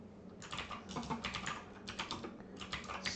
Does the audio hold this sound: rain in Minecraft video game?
no